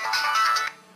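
A mobile phone ringtone sounds indoors in a home, a loud, close electronic melody lasting under a second before cutting off, with no voices.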